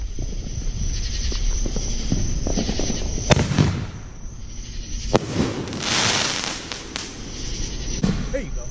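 Fourth of July fireworks burst in a series of sharp bangs and crackles, some loud and near, others duller, over an ongoing hiss and murmuring voices in the background.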